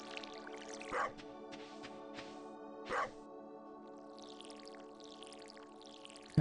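A dog in the video game Stardew Valley gives two short barks about two seconds apart over soft, steady tonal game music, with a small splash near the end.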